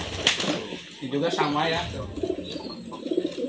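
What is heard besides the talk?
male racing pigeon cooing in courtship display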